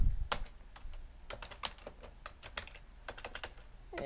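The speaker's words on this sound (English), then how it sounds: "I can't type today" Rapid keystrokes on a computer keyboard in uneven bursts, close and fairly clear, with short pauses between runs of clicks while someone codes in Python with Flask.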